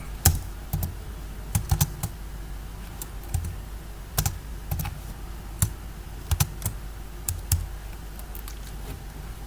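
Rapid, uneven keystrokes on a computer keyboard as code is typed, crisp clicks arriving in short bursts and pauses over a quiet room hum, with no talking.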